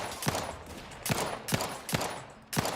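Distant, muffled gunfire in the video game Outer Worlds 2, with sharp shots popping out at irregular intervals over a steady rumble, fairly quiet and with no voices.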